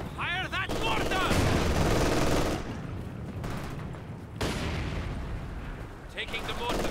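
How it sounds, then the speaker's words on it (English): Mortar fire and battlefield gunfire in the Company of Heroes 2 war game, with loud blasts and crackling shots over a dense rumble, punctuated by a sharp boom, while voices call out over the din. "Fire that mortar!"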